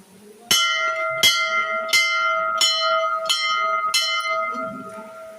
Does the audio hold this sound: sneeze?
no